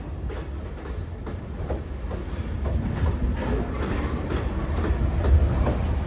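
A long LIRR train rolls past on the rails at Hicksville, a loud, continuous rumble with rhythmic clickety-clack of wheels over joints throughout.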